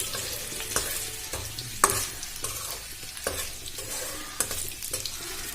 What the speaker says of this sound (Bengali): এটা ভালো করে নাড়াচাড়া করে ভেজে নেব।